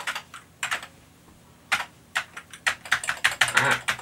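Keys on an Amiga A600 keyboard, some of them faulty, are pressed for testing: scattered single clicks at first, then a faster run of close, crisp taps clattering together.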